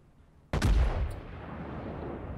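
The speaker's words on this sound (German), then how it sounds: "Schüsse sind jetzt wieder raus," Iowa battleship main guns fire a single heavy salvo in World of Warships, a sudden loud boom that rolls into a long rumbling decay, with a faint later crack.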